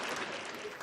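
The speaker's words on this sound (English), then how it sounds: "let me give you a round of applause because you need that" Brief burst of applause, a short dense patter of clapping that stays loud through under a second, with no voices.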